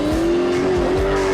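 Alfa Romeo Disco Volante with a 444 horsepower 4.7-litre Maserati V8 and a carbon fibre and aluminium body, its engine holding a loud, steady note close by, with tyre noise underneath and no talking.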